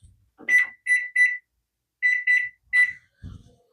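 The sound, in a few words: kitchen timer beeping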